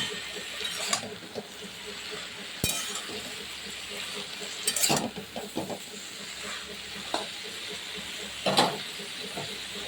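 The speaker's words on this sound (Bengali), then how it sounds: "ওই জলের সঙ্গে সুন্দর করে নুনটা দেওয়ার পরে সমস্ত সবজিগুলো আবারও সুন্দর করে নাড়াচাড়া করে" Bottle gourd stems get stirred with salt in a pan. A spatula scrapes and clinks at irregular intervals over a low, steady sizzle and hiss, close by, with no talking.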